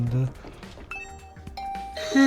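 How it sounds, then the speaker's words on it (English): A doorbell in The Hundred Line video game chimes with a bright ding-dong tone, ringing briefly between bits of speech and game sounds. "Ring the doorbell to Tsubasa's room."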